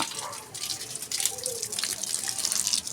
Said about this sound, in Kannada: ಎಲ್ಲ ಗಿಡಕ್ಕೂ ನೀರು ಬಿಡೋಕ್ಕೆ ಎಷ್ಟು ಚೆನ್ನಾಗಿ ಮಾಡಿಟ್ಕೊಂಡಿದ್ದಾರೆ ನೋಡಿ